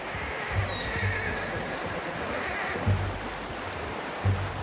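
A horse neighs faintly in a video game, with a few low snorts and whinnies spread over the clip beneath a steady rushing background of wind or water.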